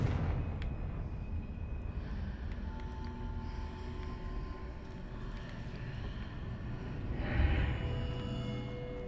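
A Confringo spell blast in the Hogwarts Legacy game, a rumbling fiery burst followed by a sustained low roar that swells again near the end, moderately loud with no talking.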